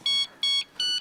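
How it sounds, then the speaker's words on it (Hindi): A mobile phone ringtone rings in three short electronic bursts of bright, tonal beeping with brief gaps between them, heard clearly with no talking. "ये देख तेरे भाई का फोन"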